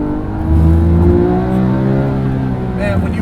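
A Porsche 997 GT3 RS 4.0 engine winds up to high revs, its tone climbing steadily through a loud, close, sustained pull with harmonic whine, and a voice speaks briefly over it.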